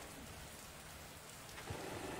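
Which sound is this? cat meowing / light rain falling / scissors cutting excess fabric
light rain falling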